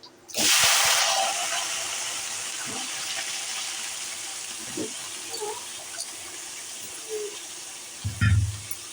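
Peeled potato strips, cut long and thin, hit a hot pan with curry leaves while cooking coriander rice, letting out a loud sudden sizzle that settles into a steady hiss, with a few light clinks near the end.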